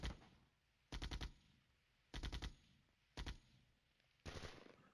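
Gunfire in the Flashpoint Campaigns Red Storm wargame comes in four separate short bursts of rapid automatic shots, each a clipped rattling volley with quiet gaps between them.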